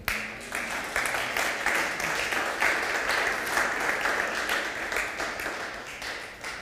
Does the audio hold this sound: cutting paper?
no